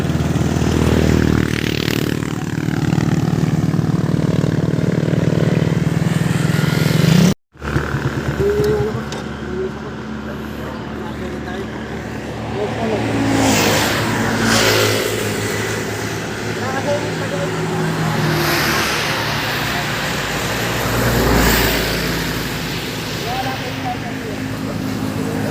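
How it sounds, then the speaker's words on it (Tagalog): Highway traffic around a motorcycle riding toward Bataan, with steady engine and road rumble plus wind buffeting and passing vehicles, broken by a brief cut; a voice talks over it at times. "Dito kami sa highway."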